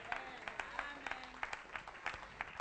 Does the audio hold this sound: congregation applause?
yes